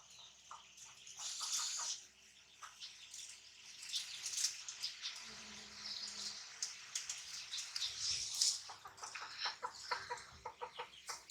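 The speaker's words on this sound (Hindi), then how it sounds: "ये देखें, ये असील मुर्गी है मेरी" An Aseel hen clucks softly in short, irregular bursts, fairly faint and close, with scattered rustling and a brief low hum partway through.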